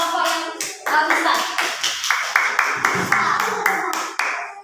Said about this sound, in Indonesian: Tepuk tangan dulu buat kelompok yang bisa.